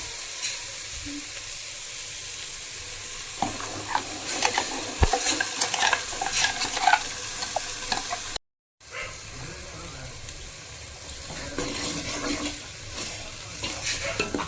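Masala frying in a pan for horse gram soup (ulava charu) gives a steady close sizzle with scraping stirring strokes and clinks of the spoon, broken by a brief dropout midway, with faint voices in the background.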